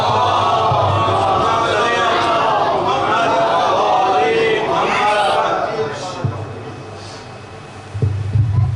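A large gathering at a Jashan Syeda Zainab celebration at Al Haadi Centre loudly recites salawat in unison, a dense, sustained chorus of many voices that swells for several seconds and then fades toward the end.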